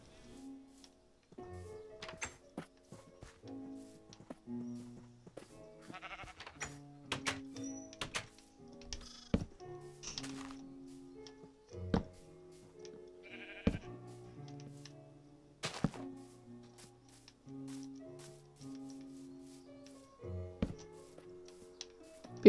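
Sheep bleating in Minecraft with the plastic texture pack, several blocky game bleats scattered among clicks, thunks and block-placing knocks across a quiet farm scene.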